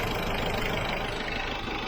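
Mitsubishi Adventure engine idling, with the air-conditioning compressor running, a steady low rumbling drone, close and continuous throughout with no talk.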